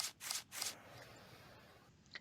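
A deck of Wild Siege game cards is shuffled up close in three quick, crisp riffling bursts, followed by near silence with a faint tap at the end.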